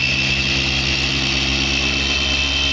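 A car polisher runs steadily on automotive paintwork during a car-care demonstration, giving a constant loud motor whine and hum with no break or talk.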